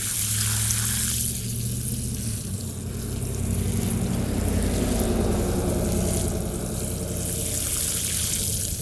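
Water rushes and trickles steadily from a garden hose onto bare garden soil, a continuous close splashing hiss with no talking.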